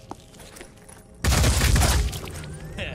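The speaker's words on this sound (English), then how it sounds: "I had not meant to auto fire that" A sudden loud burst of automatic gunfire in the tactical video game Phoenix Point erupts after a quiet moment, a rapid dense volley lasting under a second before fading into lingering echoes.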